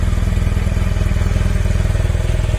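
BMW R 1300 GS motorcycle engine running loud and close with a steady, rapid pulsing throb, holding an even idle-like rhythm throughout.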